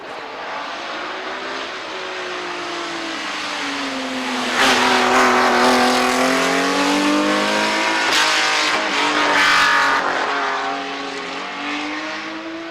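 Race car engines, including Ferraris, roar and rev loudly nearby at the Goodwood Festival of Speed, rising and falling in pitch as cars pass, with a steady crowd-like wash underneath.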